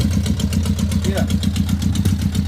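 A Yamaha motorcycle fitted with a new exhaust idles close by, its engine pulsing in a steady low rhythm throughout, with a brief voice partly over it.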